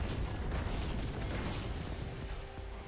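A turret being destroyed in a League of Legends high school esports match, heard as a dense, loud, continuous roar of explosive bursts and crunching impacts that holds steady for about three seconds.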